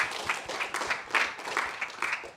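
A lecture audience applauds for a university professor, a moderate patter of scattered clapping from a small crowd that swells and eases over a couple of seconds.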